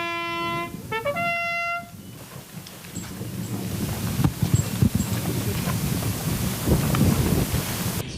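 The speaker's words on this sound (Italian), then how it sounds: "Il vento freddo dell'autunno soffia sul sacrario di Cima Grappa" Cold autumn wind blows across the Cima Grappa war memorial shrine, a steady broadband rush with gusts and occasional knocks, after a few brief clear musical tones at the start.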